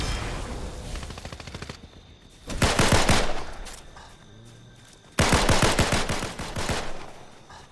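Automatic gunfire in Fortnite comes in two loud, rapid bursts of closely packed shots, one about a second long and a longer one near the end, separated by quieter background game sound.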